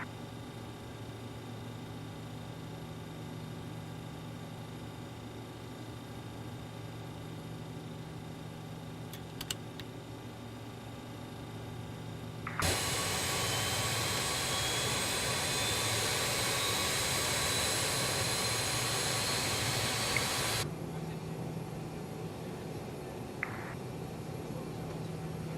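Engine two of an RJ jet in Microsoft Flight Simulator 2020 starts up: a low cockpit hum gives way to a sudden loud, broad roar that holds for several seconds, then cuts back to a steadier whine.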